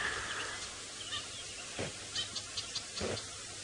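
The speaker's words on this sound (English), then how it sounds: "There's a lot of birds making a lot of noise around here" Birds calling in the bush around a fallen tree on a sunrise safari drive, a few scattered honking cries rising over a faint, steady outdoor hiss, moderately distant and separated by short pauses.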